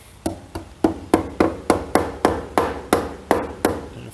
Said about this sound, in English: Then I just take my hammer and